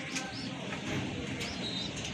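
Pigeons, a white grizzle and tiger grizzle pair kept for sale, coo faintly among soft chirps and occasional wing flutters over a steady, noisy background.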